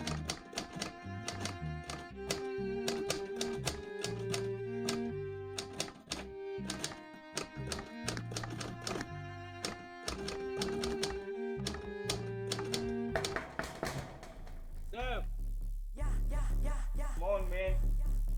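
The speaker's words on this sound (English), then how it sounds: "The typewriter demands precision." Typewriter keys strike in quick irregular bursts of sharp clacks, close and crisp, mixed with a tonal music bed, then the typing gives way to other sounds near the end.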